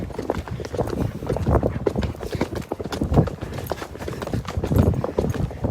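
Friesian cross Selle Français horse walking, with close, clear hoof clip-clops in an irregular rhythm on a hard surface.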